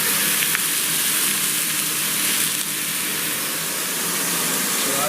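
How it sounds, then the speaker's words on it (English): Steady, loud sizzling as diced apple and onions fry in a pan alongside pork chops, a continuous hiss with no pauses. "Now I've just added some diced apple and some onions to it."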